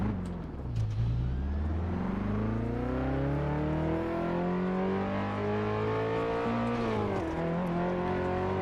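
A Ferrari F40 in Test Drive Unlimited 2 drives through Hawaii with its engine droning steadily and climbing in pitch through the gears. It holds a moderately loud sustained note with one brief drop partway through.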